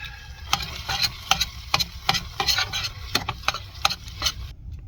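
A spoon stirs a dish cooked in a van after a splash of Texas Pete hot sauce, giving quiet, irregular scraping clicks over a soft sizzle, ending abruptly.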